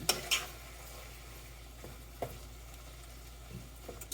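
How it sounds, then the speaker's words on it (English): Ground meat browning in a pan for shepherd's pie gives a faint, steady low sizzle, with a few sharp utensil scrapes and clinks against the pan. "Now that I've swapped the pan, the meat is getting more brown."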